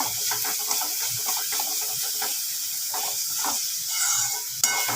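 Cluster bean dry curry being stirred in a sizzling pan, a continuous frying hiss with repeated soft scraping strokes of a spoon, close and steady, ending in a brief clack.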